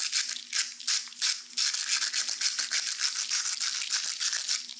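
Salt is shaken onto food during cooking, giving a run of dry, rapid rattling bursts in a steady shaking rhythm, close and fairly crisp, with no talking.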